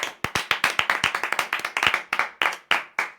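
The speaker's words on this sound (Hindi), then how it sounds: "परमेश्वर के वचन में जाने से पहले जोरदार तालियों से स्वागत करते हैं।" A church congregation claps loudly and vigorously. Sharp, distinct hand claps land in a quick, slightly uneven rhythm, close and prominent, with no voices over them.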